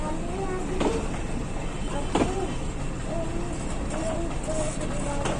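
An ICF-rake passenger train at Mailani junction, a steady rumbling roll of carriages with a few sharp clanks and squeals over the top.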